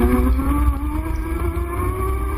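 An old MG car engine drones nearby with a steady, slightly rising hum, rumbling low as the car goes by.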